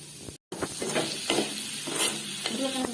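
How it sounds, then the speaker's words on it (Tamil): Potato mint pulao is stirred in a hot pan, a close sizzle broken by scraping strokes of the spoon and a brief dropout near the start. "நல்லா கலந்து விட்டுருங்க"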